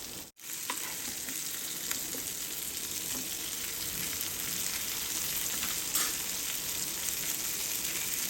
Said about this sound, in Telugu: ఇలా టర్న్ చేసుకుని మీడియం ఫ్లేమ్లో పెట్టి నెమ్మదిగా వేయించుకుంటే లోపల నుంచి కుక్ అయ్యి చాలా టేస్టీగా క్రిస్పీగా ఉంటుంది.